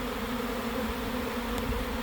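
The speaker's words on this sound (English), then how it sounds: "It's a pretty good sized swarm." A good-sized honey bee swarm drones steadily in the open air, a continuous close buzzing hum with no talking.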